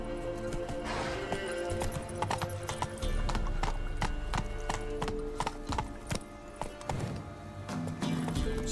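A horse gallops in the video game The Witcher 3, its clip-clop hooves beating in a fast, steady rhythm that stays close and loud and carries on throughout, with a brief whinny and a voice speaking over it.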